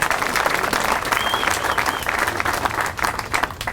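A crowd applauds at the Dickies Arena ribbon cutting, a dense, steady wash of clapping that holds at an even, loud level throughout.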